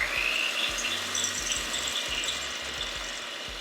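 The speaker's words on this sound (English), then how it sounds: "I'm going to actually add my egg whites into a bowl, a clean bowl, with my whisk attachment" Stand mixer with a whisk attachment beating egg whites in a clean bowl, a steady loud mechanical whirring and rattling that runs continuously, with no voices.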